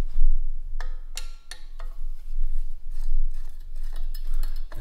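Screws are taken out of the side of a Coleman 505 or 576 camp stove with light metallic clinks and taps, a few sharp ticks close together, then softer scraping handling noises under a low hum.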